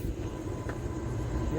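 A passenger train pulls out on the Kankavli to Dadar route, a continuous low rumble of wheels and carriages filling the whole short stretch, with faint voices nearby.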